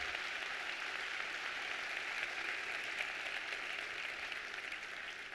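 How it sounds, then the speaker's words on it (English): Applause from the audience at a 2019 Honors College induction ceremony, a steady, fairly faint wash of clapping that runs unbroken from start to finish with no voices over it. "So let's give them all another round of applause."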